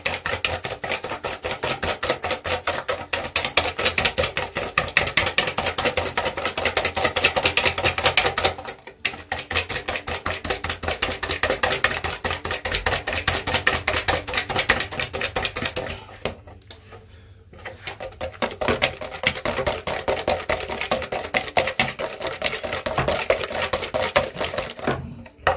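A stand mixer churns dissolved brown sugar into gingerbread batter, a steady dense whirring and rattling that runs loud and continuous, dipping briefly partway through before resuming.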